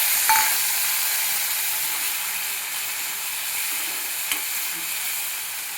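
Tomatoes tipped into a hot sizzling tempering in a pan while cooking stuffed brinjal, a steady hiss of frying with a couple of brief clinks, fairly close and without talk.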